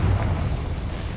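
A Confringo blasting spell goes off in Hogwarts Legacy, a deep rumbling boom that rolls on without pause, low and dense, with no voices over it.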